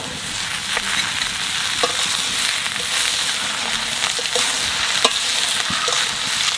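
Ridge gourd and potatoes sizzle steadily in a pan while a utensil stirs them, adding irregular scraping clicks and knocks over the constant frying hiss.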